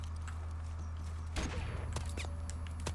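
A sharp burst of gunfire in the video game Call of Duty Modern Warfare Remastered, played with pistols only, cracks loudly midway, followed by a few scattered shots and clicks over a steady low game hum.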